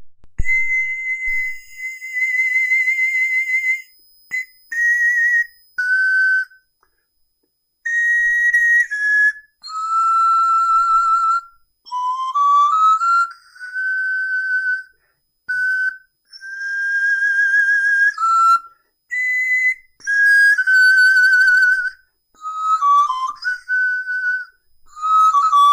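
Soft, high pan flute notes played one after another in short sustained phrases with brief gaps, pure and whistle-like, close and unaccompanied with no talking.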